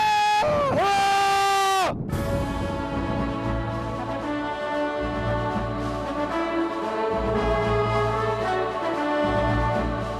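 A man yells loudly and at length outdoors aboard a large ship at sea, his sustained shout falling then carried over steady wind and engine rumble, with no other talk.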